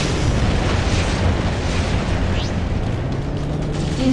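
A missile explosion in the Freelancer space game: a dense, continuous roaring rumble that stays loud and steady for a few seconds, with no talk.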